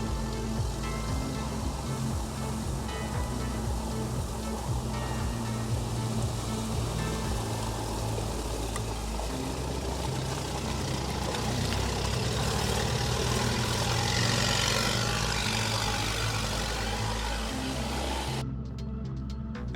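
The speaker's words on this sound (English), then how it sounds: "Unsurprisingly, we see Max confidently going in any direction across the swamp." The diesel ATV MAX, an articulated-frame amphibious vehicle, drives through a swamp, its steady engine drone mixed with continuous sloshing water, loud and close throughout, with no talk.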